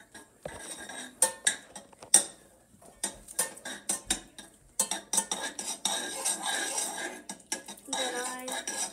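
A utensil clatters and scrapes around a pot during stirring, giving a run of sharp metallic clinks and knocks close by, irregular and fairly loud.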